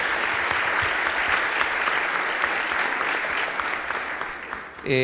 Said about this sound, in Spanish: Un aplauso afectuoso a él.